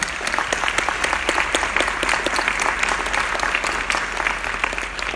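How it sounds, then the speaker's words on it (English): Audience at a women's leadership breakfast giving steady, even applause, a continuous patter of many hands clapping from start to finish. "let's give a clap for everybody that's in here"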